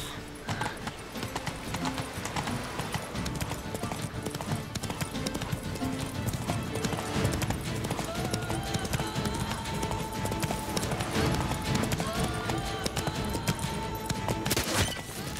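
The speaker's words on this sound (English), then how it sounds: "Whoa there, Roach." In The Witcher 3, the horse Roach gallops with a brisk, steady clip-clop of hooves throughout, and game sounds and occasional talk are mixed in.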